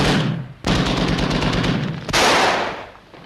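Sustained machine gun fire in a 1943 wartime submarine film: dense rapid bursts ring out loud and close, pause briefly, then a second heavy burst follows and tails off.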